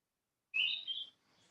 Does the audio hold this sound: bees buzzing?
no